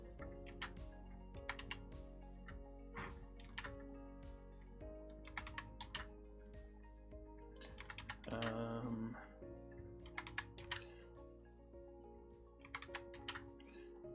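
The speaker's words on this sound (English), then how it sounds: "I'm typing on my keyboard" Rapid, uneven clicking from a computer keyboard being typed on, bursts of keystrokes with short pauses, close and fairly quiet, with a brief louder rustle midway.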